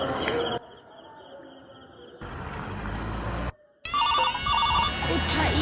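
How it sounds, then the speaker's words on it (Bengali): A phone call rings out with a repeating electronic ringtone in short, bright bursts near the end, following a stretch of steady background noise and a brief cut to near-silence. "প্রীতমের কাছে ফোন করি।"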